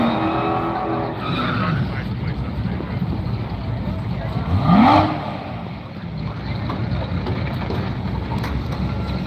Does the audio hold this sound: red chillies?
no